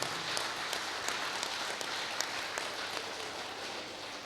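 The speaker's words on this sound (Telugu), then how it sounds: "ఒకసారి గట్టిగా చప్పట్లు కొడదాం ఈ మూమెంట్కి." A crowd at a Guru Purnima festival gathering in Bodhan claps steadily throughout, a dense, even wash of applause with no voices on top.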